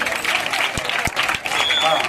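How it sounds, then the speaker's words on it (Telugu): Audience applause during a gold medal presentation at a school parent meeting in Dontikurru, a brief burst of clapping under a talking voice. "గట్టిగా చప్పట్లు కొట్టండి."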